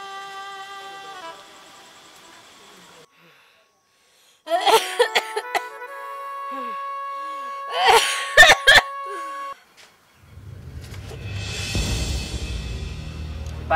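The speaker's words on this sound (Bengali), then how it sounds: "মা মনে হয় খুব কাশতেছে" A woman coughs repeatedly in a few harsh bursts, mixed in with sustained tonal background sounds and a low rumbling noise near the end.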